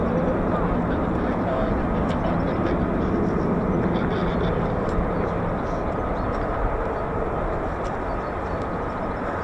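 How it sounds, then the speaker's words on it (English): An F-15 fighter jet flying at the 48th Fighter Wing air base at RAF Lakenheath, a loud, steady, broad jet roar held throughout with faint voices beneath it. "It's time for an F-15."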